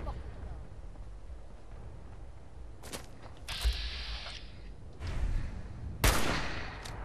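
Gunfire in the video game Fallout 4, a few sharp bursts and single shots scattered over a low constant game background, one loud crack near the end, with talk over parts of it.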